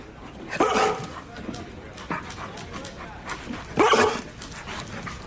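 A dog gives two sharp, fairly close barks about three seconds apart over a low background hum.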